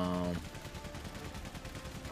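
Gunfire in the Valiant Hearts World War I game, a rapid repeating train of low gun reports continuing steadily at a moderate distance after a brief tonal sound at the start.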